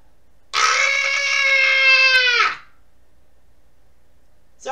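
A man lets out one loud, sustained scream lasting about two seconds, close and alone, then falls silent before a brief vocal sound at the end.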